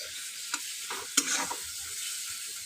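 Mango slices fry in a pan with a low, continuous sizzle, broken by a few sharp scrapes and clinks of a spatula stirring them.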